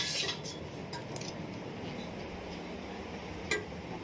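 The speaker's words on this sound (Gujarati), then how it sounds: "આપણે ચમચો ફેરવતો રહેવાનું" A spoon stirs a boiling milk mixture for homemade ice cream in a pot. Faint scattered metallic clinks sit over a soft continuous bubbling hiss, with a sharper clink near the start and another later.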